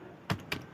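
Two quick keystrokes on a computer keyboard, close and crisp, with no talk.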